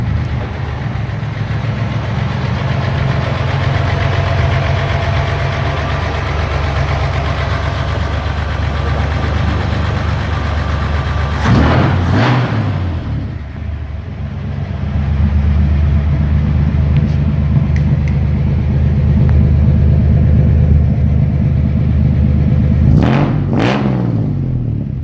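A 1964 Ford engine rumbling steadily at idle, close and loud, with two brief revs or surges partway through and toward the end, no talk.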